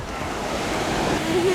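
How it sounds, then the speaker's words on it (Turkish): Rough, choppy sea waves wash onto a white-sand beach in a steady broadband roar, with wind noise buffeting the microphone throughout. "Deniz inanılmaz derecede dalgalı çıktı arkadaşlar burada."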